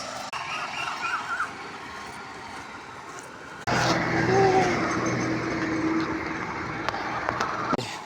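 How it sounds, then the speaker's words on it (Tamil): A Sri Lankan bus on the road: low engine rumble and road noise, then an abrupt louder stretch of heavier engine drone with tonal whine and rattles, with people speaking. "சும்மா ஒரு ஸ்ரீலங்காவில் பஸ்"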